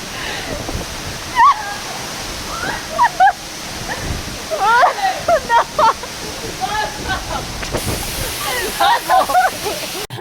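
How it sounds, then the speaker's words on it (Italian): Steady rushing roar of a waterfall fills the background while voices talk over it, with a few short barks cutting through. "Vicino per illuminare la cascata, così la vedete anche voi."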